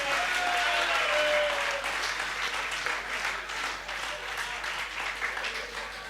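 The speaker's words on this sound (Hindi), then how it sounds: "हाथ खड़े करके तालियां बजाओ जरा एक बार जोरदार" Steady, fairly distant applause from an audience at a Hindi comedy poetry show (hasya kavi sammelan) rolls on for several seconds with a faint murmur of voices under the clapping.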